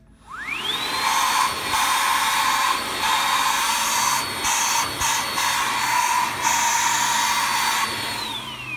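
A Hart HPVSV50 20V cordless stick vacuum running on a fully charged 4Ah battery spins up with a rising whine, then holds a loud, steady high-pitched motor drone close by.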